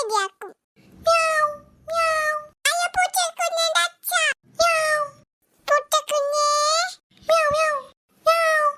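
A cat meows again and again, loud and close, with short cries in an irregular rhythm and brief gaps, while a voice is heard among them.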